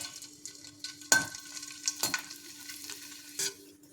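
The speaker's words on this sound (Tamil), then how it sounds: "இப்போ வடத்தை போட்டு பொரிச்சு எடுத்துடலாம்" Sun-dried katta vadam frying in hot oil gives a faint, steady crackle and sizzle, with a few louder bursts of bubbling spread across the stretch and no voices.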